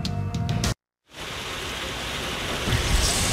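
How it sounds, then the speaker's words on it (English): Steady heavy rain during a thunderstorm at the Pocono race track, a dense wash of downpour noise that briefly cuts out and then returns at full strength. "Riding out the thunderstorm at Pocono, rain-shortened race."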